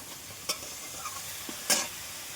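Rohu fish curry masala being stirred and fried in a pan, with a few sharp spoon scrapes and a light background sizzle over a short, quiet stretch.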